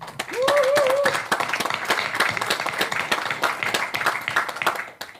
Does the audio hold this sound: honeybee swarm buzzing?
no